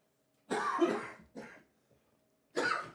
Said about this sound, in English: let me get a cough in real fast